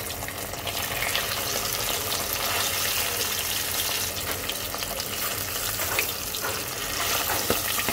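Hilsa fish pieces frying lightly in hot mustard oil, a constant close crackle and sizzle with small popping spurts and no talk over it.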